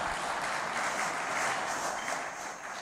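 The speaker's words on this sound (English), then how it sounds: "Ladies and gentlemen, another round of applause." An audience at a celebration event claps for a band, with dense, even applause close and sustained throughout and no talk.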